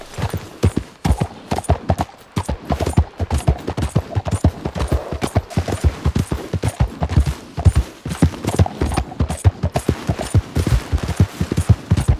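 Horse galloping in the video game Red Dead Redemption 2, a loud, rapid and steady run of hoofbeats that lasts throughout, with no talking.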